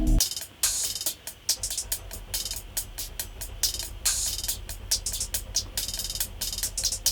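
Programmed hi-hats with accents, triplet rolls and open hats hiss in a busy, rapid rhythmic pattern, bright and crisp over a low backing, with no voices.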